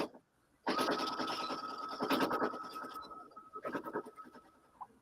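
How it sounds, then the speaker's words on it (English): Sewing machine running a straight stitch down a quilted reusable bag pocket, with a sustained mechanical whir and rattle, pausing briefly and restarting, up close with no talk. "we are just sewing it down with a straight stitch, back stitch a couple of times at the top and at the bottom."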